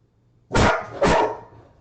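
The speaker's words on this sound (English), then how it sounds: "sorry about the dogs barking" Two loud, close dog barks in quick succession indoors, the second following about half a second after the first, with a short fading tail.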